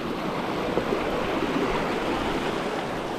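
A mountain creek in North Carolina rushes in a steady, even roar of flowing water, loud and close with no voices or breaks.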